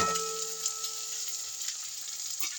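Garlic and ginger paste frying in a pan makes a steady bright sizzle, close and moderately loud, with a faint stir or clink near the end and no talking.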